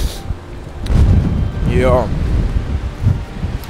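Strong wind blows hard outdoors, a loud buffeting roar against the microphone with gusts, while a voice speaks briefly.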